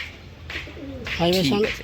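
Loft pigeons of the Kalsira, Fulsira and Lalful breeds coo nearby in soft, wavering rolling calls that grow louder toward the end, with people talking over them.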